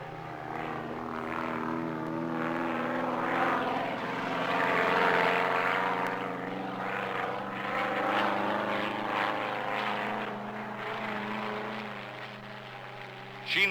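A specially designed aerobatic Clark's plane drones overhead, its propeller engine a steady rising-and-falling hum that swells and fades gently over several seconds, heard alone at moderate distance.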